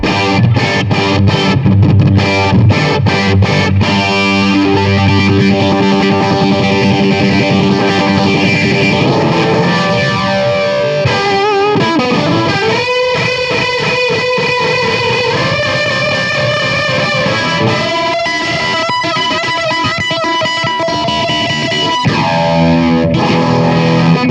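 An electric guitar runs through the through-zero flanger of a Strymon Deco pedal, with distorted chords and notes sweeping in a jet-like whoosh, loud and steady for the whole stretch with no voices.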